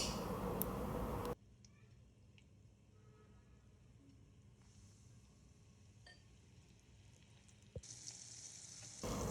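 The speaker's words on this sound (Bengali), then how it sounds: "এখন আমি এই রিংসগুলো গরম তেলে ছেড়ে দেব।" Coated squid rings drop into hot oil and fry. Louder bursts of hissing come at the start and end, with a faint, quiet bubbling sizzle in between.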